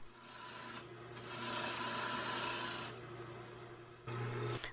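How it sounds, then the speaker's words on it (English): Wooden table pedestal being shaped on a lathe, a steady broadband scraping of the cutting tool against spinning wood with a constant motor hum beneath, swelling louder in the middle and again near the end. "I'm just kind of turning until I get to something that I like."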